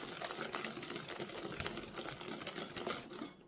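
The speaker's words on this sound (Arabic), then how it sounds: "كنخلطو هنايا مزيان البيض مع السكر" Eggs and sugar whisked together for a quick milk basbousa, a steady, close, continuous whirring and rattling that runs without pause for a few seconds before cutting off, with no talking.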